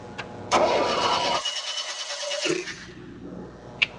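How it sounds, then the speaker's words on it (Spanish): A car with a fuel-injection fault is cranked and fires up: a brief starter whir, then a mid-pitched engine catching and running for about two seconds before dying away, close and fairly loud, ending with a small click. "le damos arranque al motor"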